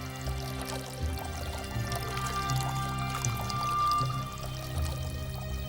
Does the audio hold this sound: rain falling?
no